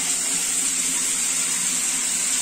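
Water runs steadily from a tap to fill a bath for pet parrots, a constant hissing gush with no pauses.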